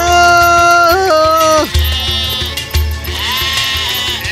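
Sheep bleat in a Bulgarian-language animated fairy tale, several wavering, sliding bleats overlapping loudly up close, followed by quieter scuffling and thumping movement with no speech.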